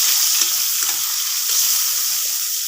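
Onions sizzle steadily in a hot pan for a bhuna curry, a close, bright continuous hiss broken by soft scraping stirs, no voices.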